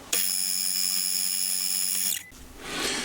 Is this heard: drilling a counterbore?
yes